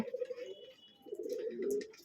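Pigeons brooding on eggs and chicks coo in low, throaty rolling phrases, one burst then a longer second run after a short pause, close and clear with faint chirps above.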